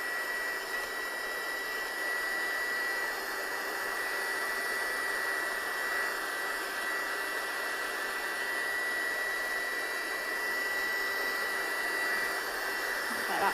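A hair dryer blows on wet watercolour paint on a handmade card. It makes a steady, loud, continuous whoosh with an even hum that runs unbroken throughout, close by and with no talk.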